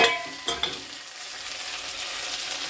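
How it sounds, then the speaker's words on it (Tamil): Tomatoes and grated coconut fry and get stirred in a hot pan for a curry-leaf kuzhambu, giving a steady close sizzle with a couple of sharp spoon clatters near the start. "ஒரு கா மூடி தேங்காய் அதையும் அதிலே போட்டு ஒரு ரெண்டு நிமிஷம் வறுத்துட்டு"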